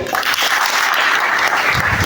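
Sustained, dense audience applause fills a ceremony hall for a sixth graduating class. The clapping is steady and fairly loud throughout, with no speech over it.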